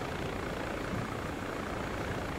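A helicopter engine in the military video game Arma gives a steady, dense whirring drone with no breaks, heard close and alone throughout.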